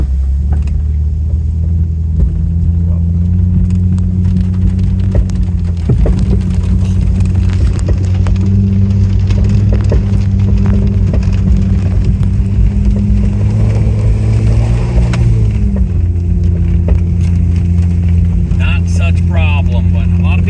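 A Jeep engine labours up a snowy hill during a snow-wheeling outing, a loud, steady low drone close by that shifts pitch midway as the revs change, with faint voices underneath.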